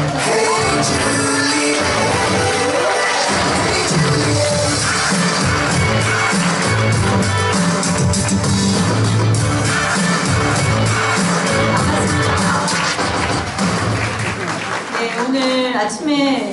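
Loud, sustained applause fills the hall as a Busan Korean medicine clinic director is welcomed onto the stage at a lecture event, a dense continuous wash of clapping lasting throughout with crowd noise mixed in.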